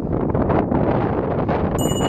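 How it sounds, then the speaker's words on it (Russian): Cold wind blowing on the coast during smelt fishing at De-Kastri, buffeting the microphone as a continuous loud, low rumbling roar with gusty surges and no voices. "Холодно, ветер метет."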